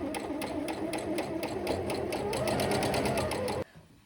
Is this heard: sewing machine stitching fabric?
yes